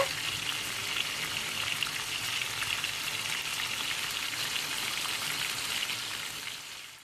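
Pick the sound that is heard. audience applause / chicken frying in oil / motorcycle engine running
chicken frying in oil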